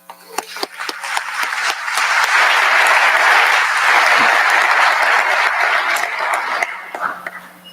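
An audience bursts into sustained applause to welcome General Skinner at a conference, the clapping building quickly, holding steady and loud, then thinning toward the end.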